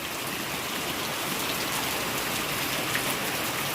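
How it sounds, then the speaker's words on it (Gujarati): Heavy rain pours steadily in Morbi, Gujarat, a dense, even hiss of drops on surfaces that stays loud and unbroken throughout with no voices. "હજી વરસાદ ચાલુ જ છે"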